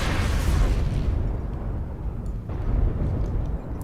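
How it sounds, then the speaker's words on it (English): Artillery strike explosions in the MechWarrior Online battle game, a heavy booming blast followed by rumbling aftershocks and a second thud, loud and close with low rolling decay. "Artillery strike online."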